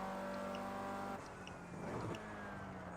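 Mercedes-AMG 45 engine in a video game driving, held in fourth gear through a tunnel, a steady faint drone that dips briefly and then carries on.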